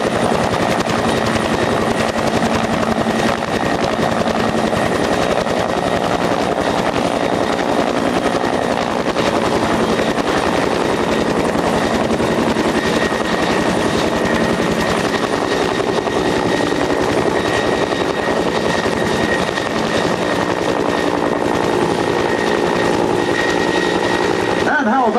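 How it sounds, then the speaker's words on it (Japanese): An SH-60 Seahawk helicopter at the 1995 Atsugi air show thrums loudly and continuously with steady rotor chop and turbine whine throughout, with faint announcer talk mixed in. "の SH60 シーホークのヘリです。"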